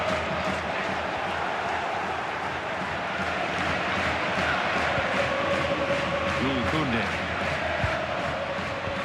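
A stadium crowd in EA Sports FC 26 roars steadily and loudly throughout a football match, a dense sustained wall of cheering and chanting with a commentator's voice faintly underneath.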